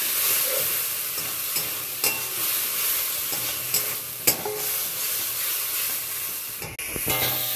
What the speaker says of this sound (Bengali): হলুদ দিয়ে দিয়েছি, সামান্য জল দিয়ে দেব, দিয়ে ভালো করে কষিয়ে নেব।